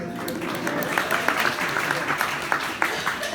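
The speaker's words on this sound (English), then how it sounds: "Everybody clap for the Mrs." An audience at a live concert at The ArtsCenter claps, with scattered hand claps over a murmuring crowd and some talk mixed in, moderately loud.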